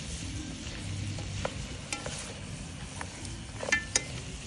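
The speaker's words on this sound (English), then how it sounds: "We don't want our masala to burn. We're gonna give it a nice stir." Masala being stirred in a pot for Durban style mutton curry: a steady low sizzle with scraping spoon strokes and a few sharp clinks against the metal, close and moderately loud, no talking.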